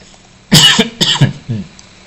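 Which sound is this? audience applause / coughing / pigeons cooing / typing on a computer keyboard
coughing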